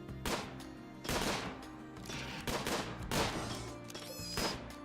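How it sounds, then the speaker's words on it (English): Repeated loud gunshots ring out in RimWorld as a colonist fires on a slow, badly wounded animal, with four or five sharp bursts spaced about a second apart. "Step in and shoot it."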